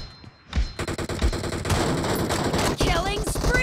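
Rapid bursts of gunfire from a team-based shooting video game, dense and loud throughout with layered shots and thumps, some in quick automatic runs.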